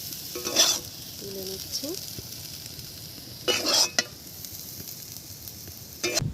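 Aloo posto, potato with poppy seed, frying in a pan, with a few short bursts of scraping as it is stirred over a low steady background and a brief spoken remark.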